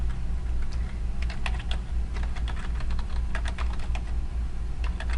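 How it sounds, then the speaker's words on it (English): Steady, fast typing on a computer keyboard, with close, dense key clicks running continuously and no voices. "So I could just type the word Google."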